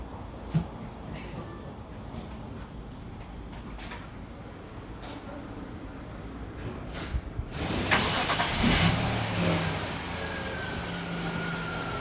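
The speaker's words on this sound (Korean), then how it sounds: "상대방 차 시동을 걸어 가지고 이 차를 시동을 한번 걸어보겠습니다." A car engine cranks and catches after a jump start from another vehicle's battery, a quiet stretch giving way to a sudden louder burst of starting and running engine noise near the end.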